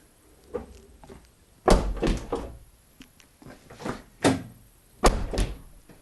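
Several solid thunks of a car door being shut, spaced out over a few seconds, close by with faint rattling in between.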